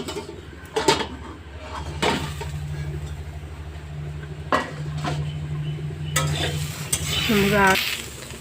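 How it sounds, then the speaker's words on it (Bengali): Potato peels fry over low heat while a spatula scrapes and knocks against the pan in scattered strokes, over a steady low hum with a soft sizzle beneath. "আঁচ কম দিয়ে একটু ভেজে নিয়েছি"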